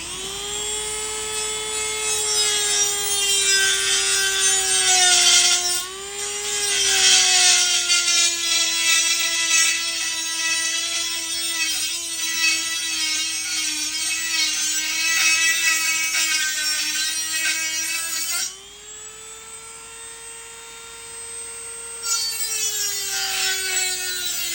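A Dremel rotary tool grinds off wheel weights from 59-year-old steel car wheels with a high, steady whine, its pitch dipping briefly under load before pausing and starting up again.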